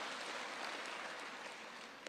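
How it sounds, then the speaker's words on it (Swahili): Applause from a large crowd at an outdoor centenary celebration at Kasarani: a steady, dense clapping that goes on throughout and eases slightly toward the end. "Asanteni sana, tupigie makofi."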